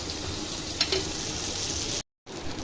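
Cumin seeds sizzle and fry with softened tomatoes in a pan for tomato chutney, a steady close crackle with occasional stirring scrapes and a brief cut to silence near the end.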